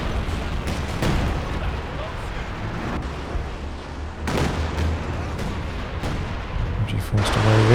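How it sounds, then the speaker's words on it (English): A Company of Heroes 2 concentration barrage rains artillery shells across the battlefield, a run of heavy booming impacts and rumbling blasts in irregular succession, with a commentator talking over the explosions throughout. "Some concentration barrage action happening."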